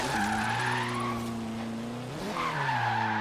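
A rear-wheel-drive Ford Focus RS drifts in Forza Horizon 3: tires squeal over a strained engine, the revs sag and briefly die off, then the engine climbs again with renewed screeching.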